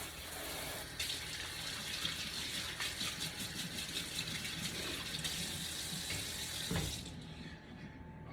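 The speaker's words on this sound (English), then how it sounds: "we wash our hands and we get a fresh towel to dry them" Tap water runs steadily from a faucet into a sink during handwashing, a continuous close splashing stream that carries through with a brief louder gush near the end.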